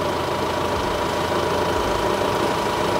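A Lamborghini Spire F VRT tractor engine running steadily at constant rpm, a loud, close, continuous diesel rumble with a slight knocking throb and no voices.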